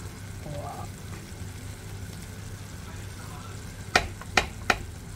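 Laing, taro leaves cooked with libas, sizzles softly in its own rendered oil, a low steady frying hiss, with three sharp clinks of a utensil near the end.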